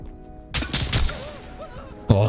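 Gunfire in the shooter game Insurgency: Sandstorm comes as a quick cluster of sharp shots, followed by a softer rattle and another abrupt report near the end.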